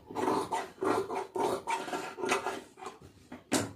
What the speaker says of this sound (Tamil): இப்போ இதை வந்து அப்படியே ஒரு பெரிய பீஸாகவே கட் பண்ணிக்கிடுங்க